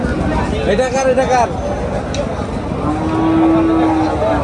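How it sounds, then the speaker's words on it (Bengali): A cow lets out a long, low moo amid a chatty crowd at a cattle market, with voices and market bustle continuing around it. "গরু এটা"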